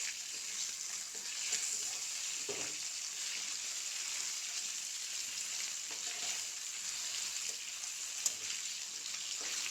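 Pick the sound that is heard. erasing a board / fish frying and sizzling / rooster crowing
fish frying and sizzling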